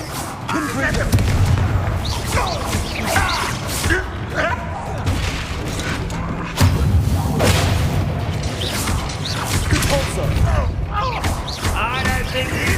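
Confringo blasting spells in Hogwarts Legacy, loud booming explosions with whooshes and crashes of magical combat, a big blast around the middle, mixed under someone talking excitedly.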